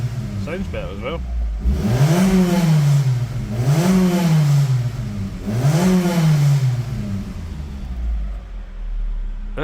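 A Mitsubishi Outlander 2.4 litre petrol AWD engine with an intermittent non-start fault runs close by. It revs up and drops back three times in a rhythmic rise and fall, with a few light clicks at the start.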